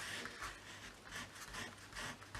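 Paper for an accordion art journal being pressed flat with a soft, steady rubbing and scraping, close and faint, repeated in slow strokes with no talking.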